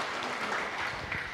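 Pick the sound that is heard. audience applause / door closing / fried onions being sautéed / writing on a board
audience applause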